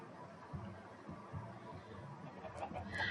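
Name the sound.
chickens clucking in Minecraft video game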